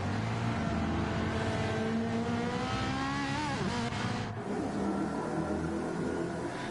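Mustang and Ferrari race cars in a Gran Turismo style racing game, engines droning loud and steady with rising and falling harmonic whine as the cars run close together, continuous throughout with no voices.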